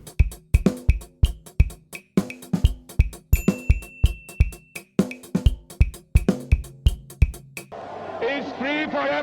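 A drum kit plays the Francis Osei praise groove: a steady, punchy pattern of kick, snare and cymbal hits, close and loud for most of the clip. A voice starts talking at the end.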